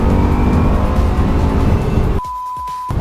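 A Bugatti Chiron at speed on the Nürburgring, heard from the passenger seat: a loud, steady engine roar fills the cabin, then abruptly drops in volume near the end as if the driver lifts off or shifts.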